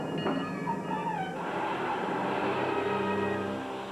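A train pulls into the Walt Disney's Magic Kingdom station on track number 1, a steady rumbling roar with a falling whistle-like tone early on, sustained and fairly loud.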